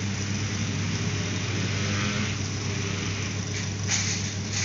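A 2014 Toyota Rush engine idling steadily during an automatic transmission oil change, a constant low hum with a strong bass drone, continuous and fairly close, with faint brief clatters near the end and no talk.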